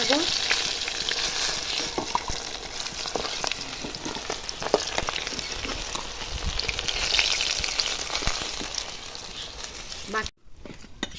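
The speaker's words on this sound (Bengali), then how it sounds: "বাকি মাছগুলো এইভাবে আমি ভেজে নিলাম" Bhetki fish pieces frying in oil give a loud, dense, crackling sizzle up close, with occasional scrapes and clatter, before a sudden brief drop near the end.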